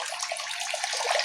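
Water pours and splashes steadily while a crayfish pond's water is being changed, a continuous close, bright rushing flow.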